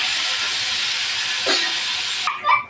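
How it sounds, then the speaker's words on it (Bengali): Potatoes sizzle in hot oil in a pan, a loud, steady frying hiss close up that cuts off abruptly near the end, followed by a brief clatter. "আলুগুলো একটু ভাজা নেব।"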